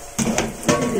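A crispy sugar roll fries in hot oil, giving a brief, close, steady sizzle with a couple of soft clinks or stirring bursts.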